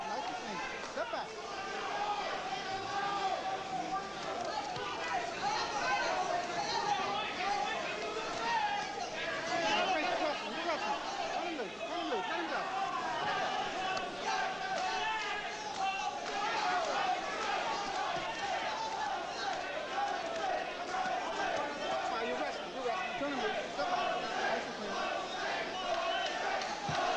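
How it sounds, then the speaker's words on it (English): Dense boxing arena crowd chanting the name Jose in unison during the 8th round of a Tyson vs Ribalta fight at Trump Plaza, Atlantic City, a steady loud roar of voices sustained throughout. "Crowd taking up a chant of Jose"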